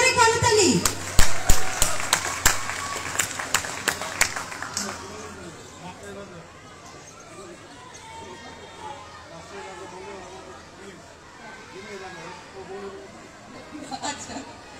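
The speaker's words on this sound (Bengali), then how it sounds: "সেলিম ভাই এবং শাহিনের জন্য একটা জোরে করতালি" A crowd at a winter-clothes distribution for street children gives a loud burst of clapping that fades after a few seconds into general chatter and voices.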